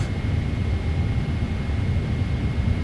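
Steady low rumble of a Boeing 777 auxiliary power unit spooling down in Microsoft Flight Simulator 2024, heard as a constant broadband drone with a faint high whine running throughout, no voices.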